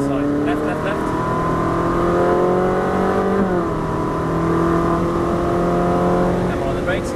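A Ferrari 458 accelerates hard around the Dubai Autodrome track, its engine note rising steadily and loud from inside the car, with an instructor talking over it.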